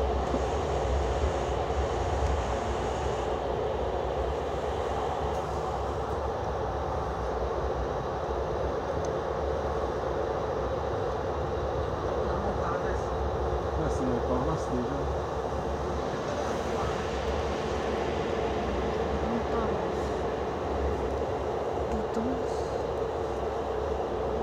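Train pulling into the Paris Montparnasse terminus, a steady loud rumble of rolling stock and track noise filling the whole stretch without letup, with no clear individual clanks standing out.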